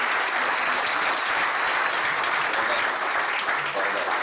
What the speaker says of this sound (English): just give my panel a huge applause again